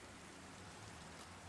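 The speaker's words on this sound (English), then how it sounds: "Raining and gross and nighttime, which is not good in this swamp" Steady rain pattering through a Minecraft mangrove swamp at night, a dense, even hiss with a low rumble underneath, continuous and close with no voices.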